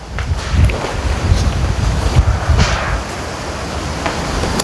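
Gusty wind blows outdoors and buffets the microphone with a steady, close, rumbling roar that swells and eases slightly.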